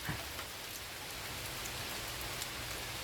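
Wind-driven rain pattering steadily on surfaces outdoors, a dense, even hiss of drops that stays close and constant throughout, with no voices.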